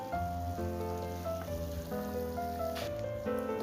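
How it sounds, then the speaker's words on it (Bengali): A pot of curry sauce for dhokar dalna, a Bengali lentil-cake curry, bubbling on the stove with a soft continuous crackle and pop, with faint tonal music in the background. "আর ঝোলটা এদিকে ফুটছে।"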